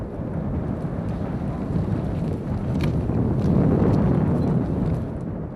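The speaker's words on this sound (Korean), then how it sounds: "광활한 촬영장에 바람 소리가 요란하다" Strong wind buffets an open-air drama filming set, a loud, steady low roar of gusts and microphone rumble that swells toward the middle, with faint rustles and knocks and no speech.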